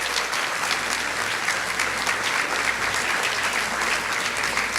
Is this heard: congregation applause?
yes